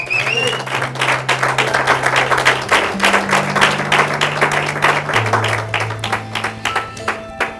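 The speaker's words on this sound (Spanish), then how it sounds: "Dele un aplauso al Señor" A church congregation claps in praise during a Spanish-language sermon, dense hand claps sounding close and steady, with a sustained organ or keyboard tone running underneath.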